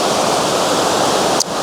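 A waterfall at Araku roars as a dense, loud, continuous wash of rushing water close by, with one brief dip near the end.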